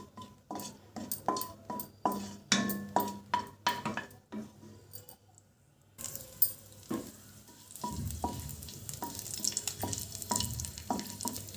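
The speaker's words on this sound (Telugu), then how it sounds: "బిర్యానీ ఆకు, చిన్న దాల్చిన చెక్క 1/2 ఇంచు, 2 యాలక్కాయలు, 2 లవంగాలు అండి. ఓకేనా, వీటిని ఫ్రై చేసుకుందాం" Bay leaf, a half-inch piece of cinnamon, cardamom pods and cloves fry in oil while a spoon taps and scrapes the pan in a quick series, then a louder, steadier sizzle takes over, close and without voices.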